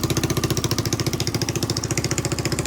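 A Honda XR200 motorcycle engine idles steadily after a top end rebuild, a close, even, rapid thumping pulse that holds without revving.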